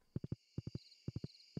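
Horse hooves clip-clopping in Stardew Valley, crisp quick taps in triplet bursts separated by short pauses over soft ambient game music.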